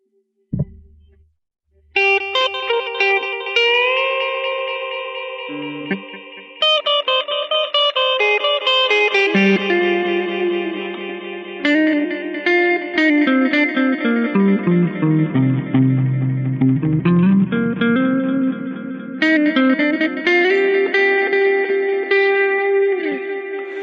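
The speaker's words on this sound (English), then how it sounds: "now let's hear it with new tape" An electric guitar runs through an Empress Tape Delay set to new tape and into an amp, picking a melodic single-note phrase with clean repeating echoes and slight modulation after a brief thump at the start, loud and alone.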